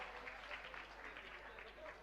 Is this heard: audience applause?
yes